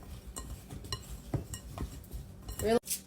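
Seasoned food tossed and mixed in a bowl, with soft scraping, stirring and a few clinks of a utensil against the dish, fairly quiet and close, no talk.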